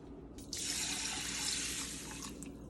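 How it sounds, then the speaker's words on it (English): A glass of water is poured steadily over buckwheat in a boiling pan, a bright, continuous splashing pour lasting about two seconds, heard close and alone. "then we gotta put a glass of water on top of it"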